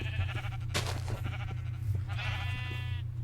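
Sheep in Minecraft bleating twice, short wavering cries over a steady low hum, fairly close and distinct.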